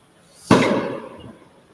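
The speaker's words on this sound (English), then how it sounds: "I think it's probably the airport safety people, probably just firing off flares to" A single sharp bang from a flare fired off by airport safety staff at an airfield, sudden onset followed by a long echoing decay that rolls away over a couple of seconds, fairly distant and heard alone.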